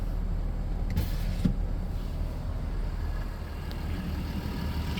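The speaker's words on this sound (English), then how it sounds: "you do have your power sliding rear window" Power sliding rear window of a 2018 Ford F150 Lariat 4x4 running, a steady electric motor hum with soft mechanical clicks near the start, heard close inside the cab.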